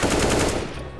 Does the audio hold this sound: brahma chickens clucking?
no